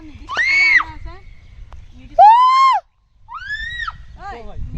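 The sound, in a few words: shouting echoing in hills at Nainital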